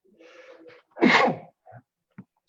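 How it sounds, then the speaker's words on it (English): A single loud, close sneeze bursts out after a short intake of breath, followed by a couple of small sniffs and mouth noises in an otherwise quiet room. "That was a good sneeze."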